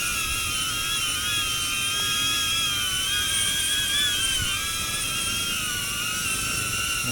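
A DJI Avata FPV drone gives off a steady high-pitched propeller whine that holds level for several seconds, with slight pitch wobble as it flies. It sounds fairly close and stands alone, with no voices.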